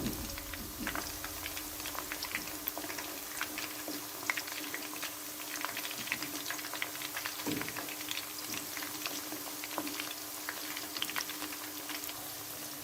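Coated cauliflower florets for gobi manchurian deep-fry in hot oil with a steady, faint bubbling crackle, fine and even throughout with no voices.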